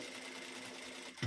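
A sewing machine stitching a blouse gives a short, steady mechanical hum close by, ending in a soft thump, with no talking.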